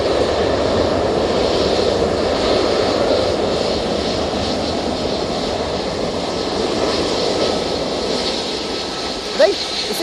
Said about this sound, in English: ETF Airways 737 now on the roll